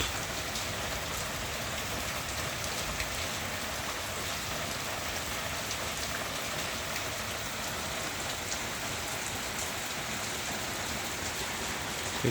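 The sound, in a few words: heavy rain in Bangalore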